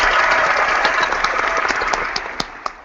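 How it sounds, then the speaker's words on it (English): A studio audience breaks into loud, sustained applause for a recently evicted Big Brother Canada Season 4 houseguest, a dense wash of clapping that tapers slightly toward the end. "Uproarious applause."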